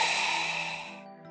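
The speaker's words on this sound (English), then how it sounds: "This is the sound of a huff with a closed glottis." A breathy, forceful exhalation huff made with a closed glottis, with a strained, throaty edge, heard alone and close, fading out after about a second.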